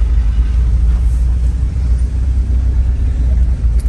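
Inside a 1987 VW Vanagon Syncro Westfalia on a test drive, a loud, steady low engine and road rumble drones throughout with no letup.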